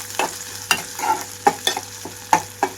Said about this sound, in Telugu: మీడియం ఫ్లేమ్లో ఉంచి వేయించుకుంటున్నాను.